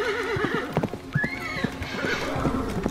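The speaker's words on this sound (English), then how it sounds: "And he made his familiar horse sounds." A horse gives a wavering neigh and whinny close by, with a steady clip-clop of hooves underneath.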